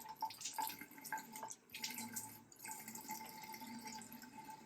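Faint running water from a bathroom tap during a face rinse, steady trickle with a few soft drips and splashes, quiet and close.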